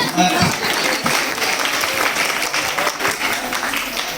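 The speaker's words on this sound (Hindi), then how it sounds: "बहुत जोरदार तालियों से स्वागत करते हैं।" An audience at a comedy skit show claps loudly and continuously, a thick rush of many hands close by. Faint voices come through beneath the applause.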